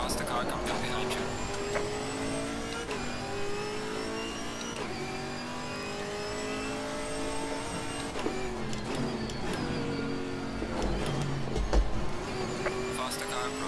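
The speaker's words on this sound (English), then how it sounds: "Faster car coming up behind you." A faster GT4 race car closes in from behind during an endurance race in a racing game at Oulton Park, its engine whining and shifting gears continuously over the steady drone of other cars.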